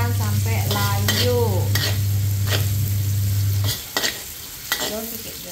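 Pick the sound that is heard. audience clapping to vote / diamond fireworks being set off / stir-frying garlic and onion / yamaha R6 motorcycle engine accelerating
stir-frying garlic and onion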